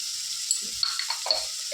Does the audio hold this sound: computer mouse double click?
no